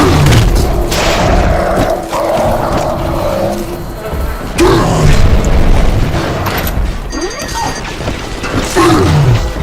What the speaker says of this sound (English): Mother has bombed out the ballast compressors, Father.